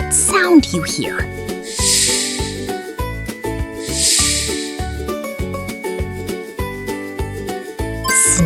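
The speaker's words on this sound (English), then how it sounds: "Snake." Short bursts of snake hissing rise twice over bright, bouncy children's music, and a voice asks a quiz question.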